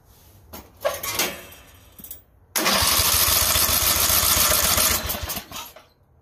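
A weed eater engine that is not drawing gas gets pulled several times with short rough rasps, then runs briefly at a loud buzzing roar before sputtering and dying away.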